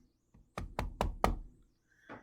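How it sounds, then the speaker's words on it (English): Four sharp knocks land on a front door in quick, even succession, fairly close and loud, followed by a brief softer rustle; no voices are heard. "a hungry wolf knocked at the front door of the little straw house"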